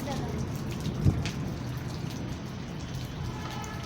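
Heavy rain pours steadily onto a rooftop during a storm, a dense and constant hiss with a brief louder patter about a second in, and no one speaking over it.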